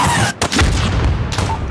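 A missile explodes in Call of Duty: Modern Warfare, a loud, close booming blast rumbling on with heavy low-end rolling through the battlefield.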